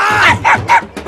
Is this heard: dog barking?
yes